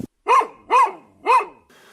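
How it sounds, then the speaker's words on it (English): A dog at a small French railway station barks three times in an even rhythm, each bark loud and close and spaced about half a second apart, with faint background noise afterward. "and there's a dog"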